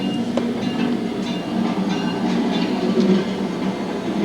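An N scale model train runs along a basement layout, the Niagara and Pearl Creek Railroad, making a steady, even rolling rumble with faint scattered clicks and no voices.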